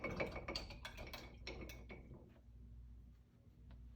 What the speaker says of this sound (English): Now I'm gonna rinse my brush.